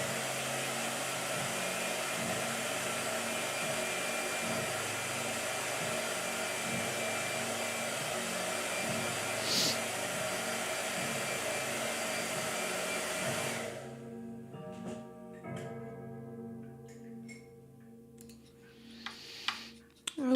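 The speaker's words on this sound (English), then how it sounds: "Blow dryer." A blow dryer runs with a steady, loud whooshing roar for most of the stretch, then cuts off abruptly, leaving a quieter room with faint ticks and small handling sounds.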